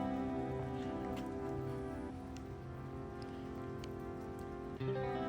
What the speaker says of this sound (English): it's starting to really rain.